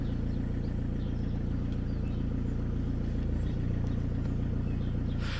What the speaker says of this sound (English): So now the car's running